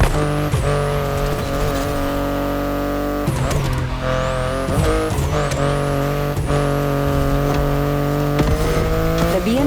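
A BMW i8 driving in the racing game The Crew Motorfest, its engine loud and close. It revs and climbs through gears, with repeated rising pitch sweeps and brief dips at shifts, and faint talk underneath.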